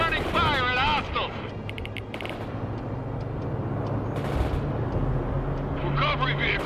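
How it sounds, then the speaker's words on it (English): Gunfire in the strategy game World in Conflict, with a Bradley returning fire at hostiles. A steady rumble of battle runs under radioed unit voices, and a short burst of shots rings out midway. "Bradley, returning fire at hostiles."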